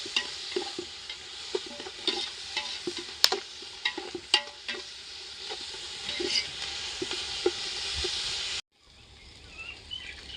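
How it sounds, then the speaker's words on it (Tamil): Onions sautéing in a pan until golden, a soft frying hiss broken by frequent scraping and clinking stirs from a spatula, close by and without talk, ending in a quieter stretch. "பொன்னிறமாக வதக்கணும் வெங்காயம்"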